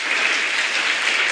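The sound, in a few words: audience applause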